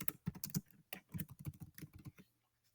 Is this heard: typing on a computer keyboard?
yes